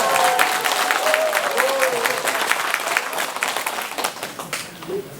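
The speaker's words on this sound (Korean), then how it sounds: "면장님께 박수 한번 부탁드립니다." An audience at a township residents' general assembly in Dongi-myeon, Okcheon, applauds for the township chief, a steady burst of clapping that starts strong and thins toward the end.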